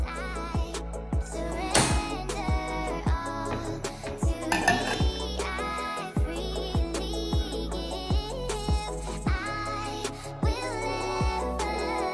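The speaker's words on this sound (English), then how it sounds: "So just going to do the dishes real quick" Dishes being washed up close at home: plates, pots and cutlery clink and clatter in irregular bursts over a low running-water hum, with no talking.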